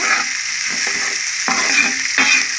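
Sliced onions sizzle steadily as they fry in a pan, a close, continuous hiss broken by a couple of soft stirring scrapes, with no talking.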